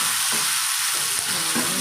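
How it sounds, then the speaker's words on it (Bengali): Ching fish with onion and tomato frying in a pan gives a dense, continuous sizzle, with soft scrapes of stirring now and then, close and steady and without talking. "পেঁয়াজ আর টমেটো একবারে দিয়ে দিলাম এটি ভাজা ভাজা করে চিং মাছটা একটু কষা কষা একবারে ভাজা ভাজা করে"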